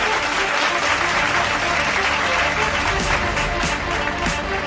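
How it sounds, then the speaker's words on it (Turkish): Loud, dense applause from an audience at an awards ceremony as a sponsor takes the stage, continuous and close throughout. "Kuvvetli alkışlarınızla"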